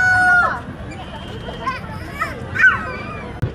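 A rooster crows at a farm, its calls ringing out twice among the chatter of children playing and talking nearby.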